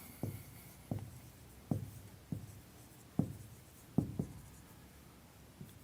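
Pen or chalk strokes while working a Pythagorean theorem problem in a class 8 math lesson, a series of faint, evenly spaced scratchy taps about a second apart against quiet room noise.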